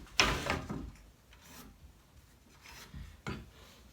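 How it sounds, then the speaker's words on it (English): Pencil rubbing and scraping against lumber held at a framing square while marking stud layout lines for a wall, with a sharp first stroke and several softer rasping marks spaced apart, close up and alone. "Then I would take my square, hold it to the right of it, and mark both sides."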